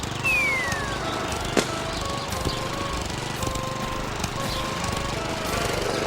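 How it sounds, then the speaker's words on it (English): A lawn mower engine drones steadily at a constant pitch, with one sharp click early on and faint rattles underneath. "Lawnmowers make a lot of air and noise pollution."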